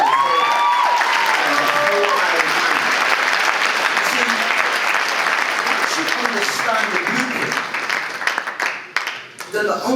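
Sustained applause from a large crowd at a chairman's speech event fills the space loudly and densely, with a few cheers and whistles riding over it before the clapping thins and tapers off near the end.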